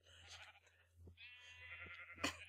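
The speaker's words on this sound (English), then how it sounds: "All the sheep are over here." Sheep in the video game Minecraft bleat several times, short wavering cries overlapping one another at moderate distance over a low background hum, without any speech.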